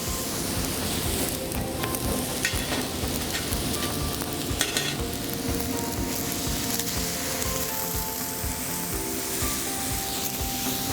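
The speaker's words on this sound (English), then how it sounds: "I'm gonna kind of drain off that liquid from my tomatoes and let it deglaze." Tomato liquid deglazes a hot frying pan during a venison chicken-fry cook, giving a steady, dense sizzle with stirring and scraping throughout and no talk.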